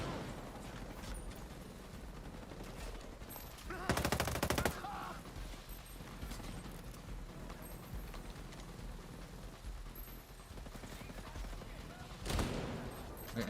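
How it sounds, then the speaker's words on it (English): Assault rifle gunfire from the Ghost Recon Breakpoint video game comes in short, loud bursts: one near the four-second mark and another near the end. Steady game ambience fills the gaps between the bursts. "I'm shooting with an AR."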